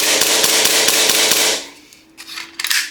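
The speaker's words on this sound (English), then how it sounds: "you can dry fire it without a mag" An airsoft pistol with no magazine is dry fired repeatedly, giving a fast train of sharp mechanical clicks and clacks that stops abruptly, followed by a few softer handling knocks.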